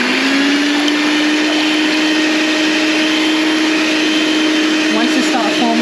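An electric beater whipping egg whites with cream of tartar in a grease-free bowl for a tiramisu cake meringue: a loud, close, steady motor whir at a constant pitch, running without a break.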